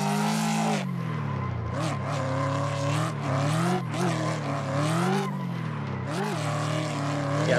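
Ford Mustang street car in a racing video game on twisty touge mountain roads, its engine roaring continuously with rising and falling revs and tire squeal through corners, loud and steady throughout.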